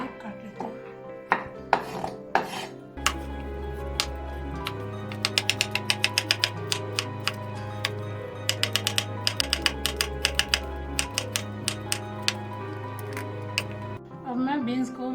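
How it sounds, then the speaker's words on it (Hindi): A knife chops peeled carrot finely on a board in quick, steady bursts of close, crisp taps, pausing and resuming, with a low hum underneath. "मैं गाजर छील लिया, अब इसे मैं बारीक काट लेती हूँ।"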